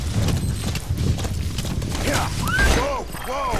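Horse hooves clip-clop in Metal Gear Solid V: The Phantom Pain, a steady trot under in-game whistling tones and someone talking in Spanish.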